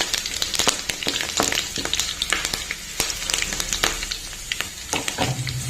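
Curry leaves crackling in hot oil in a pan, with rapid sharp pops and spits bursting irregularly over a steady low sizzle, close and fairly loud.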